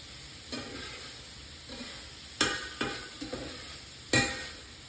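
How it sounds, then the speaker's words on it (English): Organic mushrooms, zucchini and green onion sautéing in a cast iron pan, a quiet steady sizzle broken by several sharp scrapes of a metal spatula, close and without speech. "we've got some organic mushrooms that's also kind of sauteing in here"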